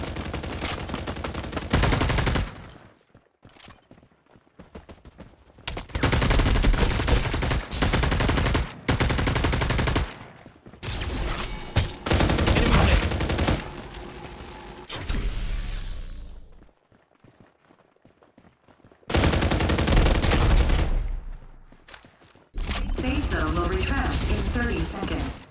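Bursts of rapid automatic gunfire from the mobile battle royale game Farlight 84 rattle in several loud stretches separated by brief pauses, with game voice announcements heard between them.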